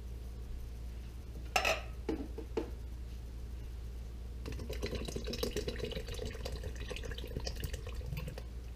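A can clinks against metal, then evaporated milk pours in a steady liquid splash into a pot, two cans' worth, in a quiet kitchen for corn chowder.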